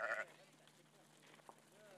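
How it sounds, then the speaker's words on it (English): Sheep bleating as they are herded back to their pens for the night: one clear bleat at the start, then a fainter bleat at the end over soft outdoor background noise. "As before the war, the sheep are brought back to their pens for the night."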